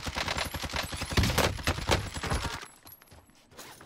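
Rapid gunfire from a firefight in the video game Call of Duty Warzone: a dense stream of sharp, close automatic shots that stops abruptly, leaving quieter scattered pops and background noise.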